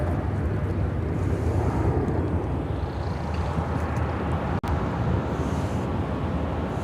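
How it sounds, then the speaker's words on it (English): A Korean Air Cargo Boeing 777 freighter climbs away from Chicago O'Hare with a continuous, heavy jet roar mixed with wind buffeting. The roar drops out for an instant partway through, then carries on steadily. "That was Korean Air Cargo 8232 taking off to Seoul on the 777 freighter."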